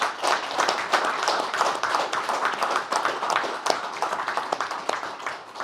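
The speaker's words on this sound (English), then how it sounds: "Let's have a little memory for Ray. A little applause." A press conference crowd at an ice rink applauds steadily, dense overlapping claps at a consistent level throughout, with no voices rising above the clapping.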